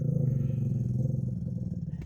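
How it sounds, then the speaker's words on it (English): An exotic animal riding in an Uber car growls: a close, loud, continuous low rumble with a steady pulsing texture lasting about two seconds, ending in a short click. "Except for that growl."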